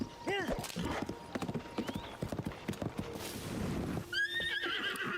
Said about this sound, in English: I don't think the horse likes the fact that that ruins fell here